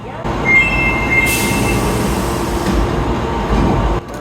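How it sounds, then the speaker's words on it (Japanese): An Osaka Metro subway train, the late-evening service bound for Yaominami, pulls into Higashi-Umeda station with a steady rumble and high wheel squeal that rises partway through, then eases off. "さあ、最後の電車がやってきました。"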